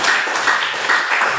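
Applause for a classmate in a school classroom: a steady, dense patter of many hands clapping together, fairly loud and close, with no break for its whole short length.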